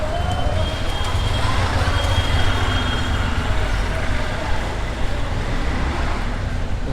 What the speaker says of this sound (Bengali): মূলত এখন যানবাহনগুলো নিচ দিক দিয়ে চলাচল করছে।